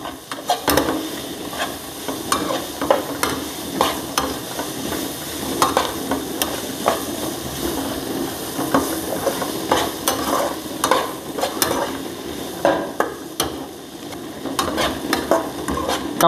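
Onions sizzle and fry in a pan for anegg bhurji, with a steady crackle broken by repeated scraping strokes of a spoon stirring them, close and fairly loud, no talking.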